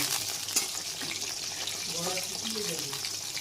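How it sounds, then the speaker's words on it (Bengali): Eggplant slices frying in a pan give a steady, close hiss and sizzle throughout, with faint voices and kitchen sounds underneath. "এখানে বেগুন ফ্রাই করছি।"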